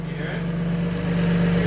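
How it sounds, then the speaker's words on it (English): A BMW M2 Competition engine misfiring, a steady close drone with a strong low hum and an uneven, stuttering pulse running under it for the whole short stretch. "No, it's misfiring. You hear that?"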